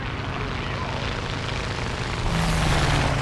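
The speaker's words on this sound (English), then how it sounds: "Hear that plane?" Propeller plane engine droning overhead in the War Thunder video game, a steady roar that grows a little louder near the end, with someone talking over it.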